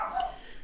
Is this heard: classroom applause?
no